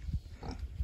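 Pigs grunt and munch close by while lying in their food plate, short low snuffling sounds over under a second.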